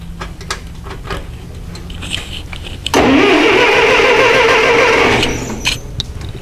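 A Massey Ferguson tractor engine cranks and catches with a sudden loud roar, running steadily for about two seconds before dropping back, with quieter workshop noise before and after.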